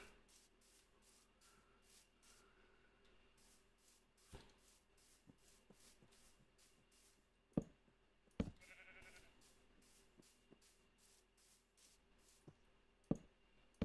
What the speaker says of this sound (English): Oh, we got a sheep in there.